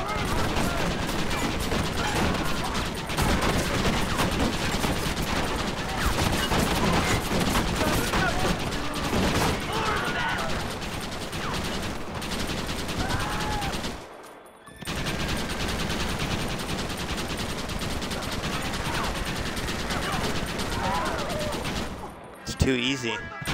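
Heavy, sustained gunfire rattles through the Fort Mercer assault in Red Dead Redemption, with many overlapping shots and mechanical clatter for most of the stretch, broken by a short lull, and a voice heard intermittently.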